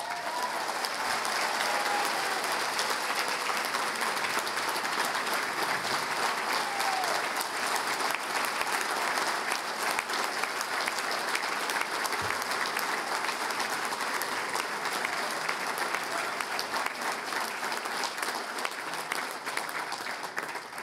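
A large convention audience at a veterans' organization's mid-winter conference applauds steadily and loudly for an extended stretch, a dense continuous roar of clapping hands.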